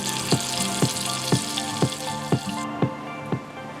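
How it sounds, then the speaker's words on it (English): Chopped onions sauté in a mix of olive oil and butter for risotto, giving a steady close sizzle broken by evenly spaced ticks, roughly two per second. "So I like to use both every time I'm sauteing onions for the risotto."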